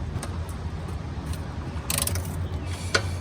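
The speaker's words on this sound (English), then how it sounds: "Gonna loosen the big bolt, and hopefully it'll let me free up the cable now that the cable end bolt is free." A wrench ratchets and clicks against a bolt while it is loosened to free the clutch cable on a 1970s MTD Mud Bug trike with a John Deere engine. The close mechanical clicks and scrapes come with a couple of louder bursts near the end.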